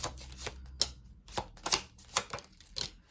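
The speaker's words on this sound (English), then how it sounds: "as I'm shuffling, a bunch of cards just tried to pop, so I'm going to let those fall" Tarot deck being shuffled by hand, a series of soft papery riffles and slaps in irregular bursts with brief pauses, close and fairly quiet, no talking.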